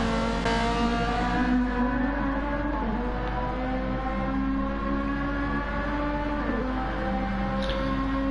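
GTE race cars lap Le Mans in a racing video game, a steady layered engine drone with several sustained pitches, occasional faint shifts as cars change speed, no voices over it.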